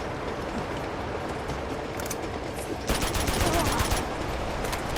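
Gunfire from the video game Uncharted 2 on brutal difficulty, with a steady wash of distant shooting that turns into a louder burst of rapid automatic fire over the last two seconds.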